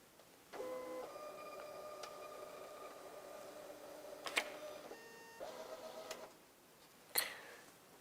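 An electronic voting machine prints a ballot card with a quiet, steady mechanical whir, broken by a few sharp clicks and knocks, including a louder click near the end, in a hushed room.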